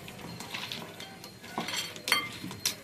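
Raw crab being mixed by hand with mustard oil in a bowl in a Sundarbans home kitchen, with light clinks and scrapes of shell and bowl, a few sharper chinks near the end, close and fairly quiet.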